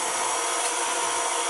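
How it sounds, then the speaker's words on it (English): A spatula scrapes around a stand-mixer bowl and paddle of cookie dough, a short, close, continuous rasping rub with no talk. "I do want to scrape the whole bowl down and clear the paddle."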